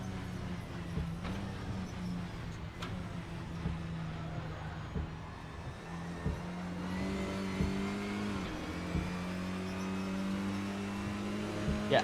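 A race car engine in Assetto Corsa Evo on a wet track in the rain, droning steadily with shifting pitch as the driver relies on the gearbox and engine braking, continuous and fairly loud with no talking.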